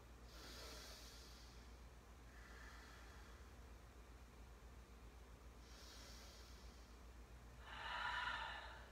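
Deep breathing during a yoga session, a few slow airy inhales and exhales spaced several seconds apart, faint and close against a quiet background, the last breath the loudest.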